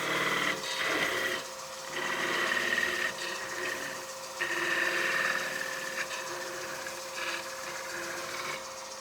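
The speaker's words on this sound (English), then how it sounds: "Change to the skew to part it off." Wood lathe spinning a peppermill blank while a skew chisel parts it off, a steady whining hum with a high tone and scraping bursts that rise and fall through the cut, close and continuous.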